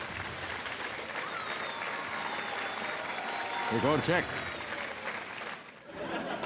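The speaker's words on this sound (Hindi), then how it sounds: "तालियां बजती रहे देवी और सज्जनों" Studio audience clapping on a TV quiz show as a contestant wins another cheque, a sustained wash of applause under a voice, with a brief musical flourish near the end.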